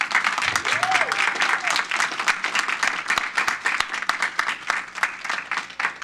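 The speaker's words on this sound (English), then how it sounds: "Let's give him a big round of applause." Enthusiastic applause and clapping from an audience at a Keys to the City event, dense and close throughout, with a voice briefly heard under the clapping at the start.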